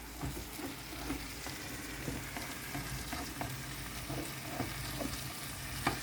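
Food sizzles steadily in a pan, a continuous close frying hiss broken by small pops and occasional stirring scrapes.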